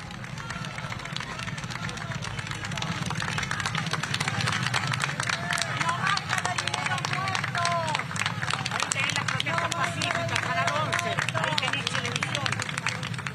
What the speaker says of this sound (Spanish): Bajo aplausos que ustedes están escuchando